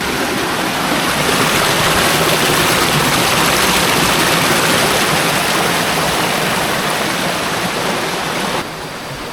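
A waterfall at a small-scale gold mining site in Kalirjo village roars as a loud, constant broadband rush of falling water, unbroken for the whole stretch with no voices over it.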